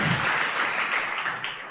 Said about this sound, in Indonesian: Tepuk tangan buat Ibu Nayunda.